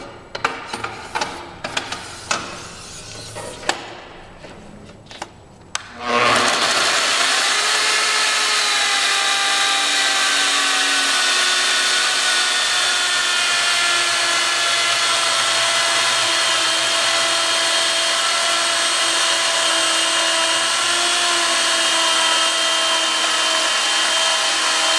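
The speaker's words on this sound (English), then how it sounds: "Compound miter cut, 45 and 45." A compound miter saw cuts wood at a 45-degree miter and 45-degree bevel. After a few seconds of quieter clattering, a loud, steady motor whine starts and holds close and unbroken to the end.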